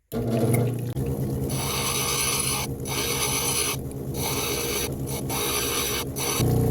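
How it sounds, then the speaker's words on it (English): A cabbing machine grinds rough jade into shape with a continuous loud rasping, scraping whir. The grinding breaks briefly now and then as the stone is lifted off the wheel, and no one speaks. "let's get this cab machine turned on and get a rough shape out of this"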